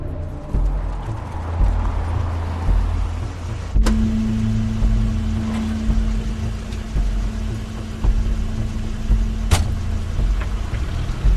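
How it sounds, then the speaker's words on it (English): A car pulls up in The Wolf Among Us, belonging to Crane: a low engine rumble rolls under ambient game sound, with a steady tone entering midway and a couple of sharp knocks, no talking. "That's Crane's car."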